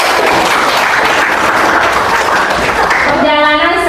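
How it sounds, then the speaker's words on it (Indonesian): A classroom full of people applauds with loud, dense, sustained clapping that keeps going without a break, and a voice briefly cuts in near the end. "Tepuk tangan dulu"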